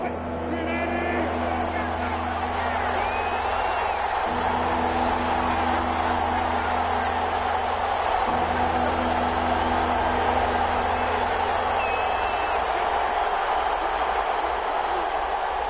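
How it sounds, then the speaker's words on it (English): Steady roar of a football stadium crowd at a home field during an XFL game with the Seahawks, a dense continuous wash of voices and noise underneath play-by-play commentary throughout. "The crowd's not doing that O-line any favors."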